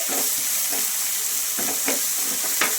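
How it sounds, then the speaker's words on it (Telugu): Steady sizzling in a pan as food fries with turmeric, with soft scraping stirs every second or so over the continuous hiss. "అది వేగుతున్నప్పుడే పసుపు వేసేసుకున్నాం"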